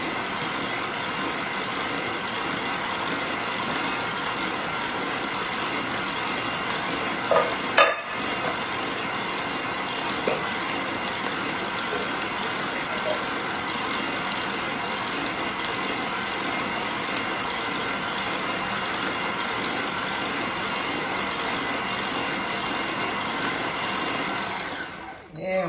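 A lidded kitchen mixing appliance churns chocolate cake batter, its motor whirring loudly and steadily for about twenty-five seconds with a faint tonal hum, a brief knock partway through, then cutting off abruptly at the end.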